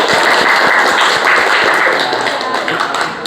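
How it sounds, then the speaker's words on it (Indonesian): A school group of vocational students claps together, a dense, steady round of applause that holds loud throughout and eases off slightly at the end. "Aplaus dulu."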